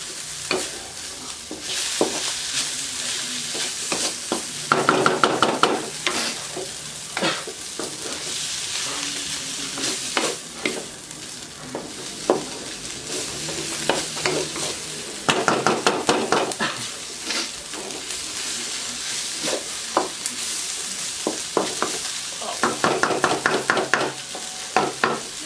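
Lechon sisig frying in a pan, a steady loud sizzle under repeated bursts of a utensil scraping and clacking against the metal as it is stirred, with no voices.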